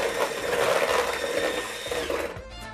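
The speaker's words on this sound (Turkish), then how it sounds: "Şu anda çırpıyorum." Oil, sugar and an egg whipped together for sultan dessert, heard as a continuous, close, whirring electric mixer or blender motor running steadily with a slight wobble, then easing off near the end.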